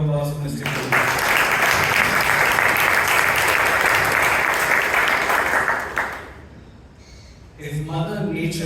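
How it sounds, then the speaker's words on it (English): An audience at a Toastmasters club meeting in Bangalore breaks into loud, dense applause that lasts about five seconds, fades out, and gives way to a voice speaking. "can we have a round of applause for Mr. Cool?"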